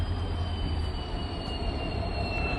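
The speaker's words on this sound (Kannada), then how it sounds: "ಬಸವ ಎಕ್ಸ್ಪ್ರೆಸ್ ಅರೈವಲ್ ಆಗ್ತಿದೆ ಪ್ಲ್ಯಾಟ್ಫಾರ್ಮ್ ನಂಬರ್ 1ಕ್ಕೆ" Basava Express from Mysore to Bagalkot pulling into platform 1 at a station, a continuous loud rumble of rolling wagons with a faint steady wheel squeal above it.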